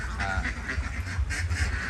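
A crowd of laying ducks in a backyard duck shed keeps up a busy, overlapping chorus of quacks close by, with a voice partly mixed in.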